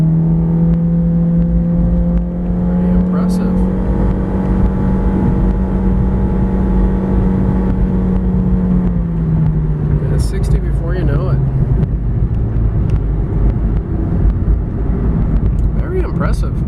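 A 2011 Honda CR-Z hybrid with its air conditioning running accelerates hard from 0 to 60 mph uphill. A loud, steady engine drone rises in pitch, then shifts gear partway through, with road and cabin noise throughout.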